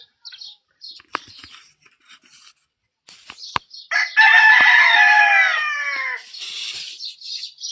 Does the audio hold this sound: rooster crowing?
yes